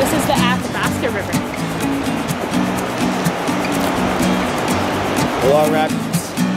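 The Athabasca River's long rapids rush as a steady, dense roar of water, heard close and loud throughout while a person talks over it.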